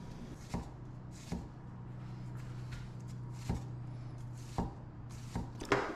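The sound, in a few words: knife chopping a white onion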